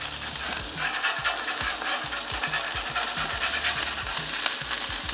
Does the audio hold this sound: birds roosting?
no